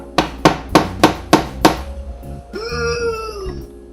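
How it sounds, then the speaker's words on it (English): A hammer taps a tight part into place during a first PC build with a Ryzen 5600X and 32GB RAM, five sharp close knocks in a quick even row, then a person speaks. "Tap it with a hammer?"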